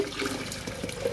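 Water is poured in to rinse freshly refined gold, a steady splashing, running-water wash that stays close and fairly loud for the whole moment with no voices.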